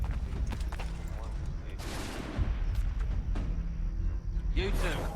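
Rifle gunfire in the video game Assassin's Creed III cracks out in several loud, sharp reports amid a busy battlefield din, with voices talking over the action.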